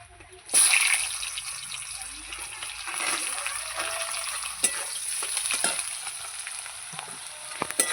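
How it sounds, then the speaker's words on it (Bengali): Cut potatoes go into hot oil tempered with dried red chilli, setting off a loud, steady sizzle that sustains throughout, with occasional stirring clatters and no talking. "আলুটা দিয়ে ভালো করে আলুটাকে আমি ভাজবো"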